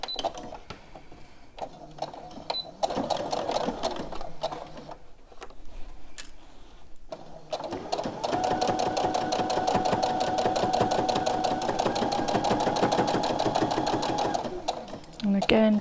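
A sewing machine stitches fabric for a memory bear in rapid, steady rhythmic bursts, stopping and starting before a long continuous run, while someone talks over it.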